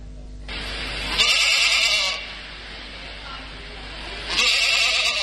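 A young goat kid bleats in a farm-field setting: two loud, drawn-out nasal cries, each about a second long, separated by a pause, with voices heard between them.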